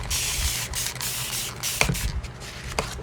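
A spray bottle mists water onto watercolor paper in repeated hissing bursts, close and loud, with a few soft taps of handling between sprays and no talk.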